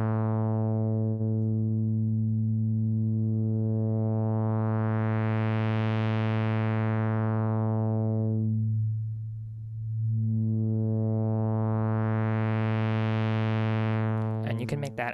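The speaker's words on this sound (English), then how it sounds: "If I include that low frequency signal that's slowly moving the filter cutoff up and down" Synthesizer tone whose filter cutoff is swept slowly up and down by a low-frequency oscillator, a sustained buzzy drone that brightens and darkens in two long smooth waves, loud and alone, with a brief rough flutter at the end.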